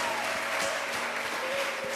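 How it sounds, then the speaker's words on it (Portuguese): A church congregation applauds during a celebration service, a steady, dense wash of clapping heard throughout. "Aplauda Jesus mais uma vez"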